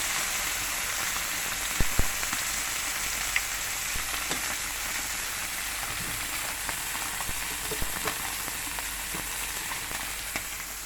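Continuous close-up sizzling and crackling of koi fish frying in hot oil, with occasional sharper pops and no talking.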